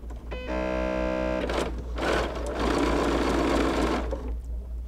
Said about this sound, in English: then I'm gonna take it to my machine and sew it